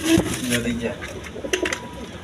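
A pair of high-flying Giribaz pigeons sitting on eggs give low throaty coos and rustles close by, while someone talks over them.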